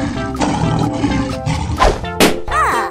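A lion's roar from a video game animal transformation rises over a busy stretch of game sounds and music, loud and close, with other effects cutting in around it.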